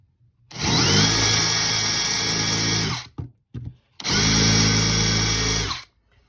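A power drill runs an 11/64 bit to widen a peened factory pin hole on an AKM gas piston part, with two loud, steady whining bursts of about three seconds each, separated by a short pause with brief blips.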